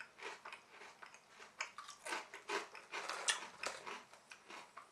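Thick McCoys chip shop curry sauce flavour crisps being crunched close up, a rapid irregular series of sharp, loud bites and chews repeating about every fraction of a second, with no talk.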